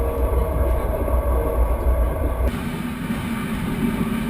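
A Trans-Siberian Railway train rumbles along in a steady low roar heard from inside the carriage, and its tone shifts abruptly partway through.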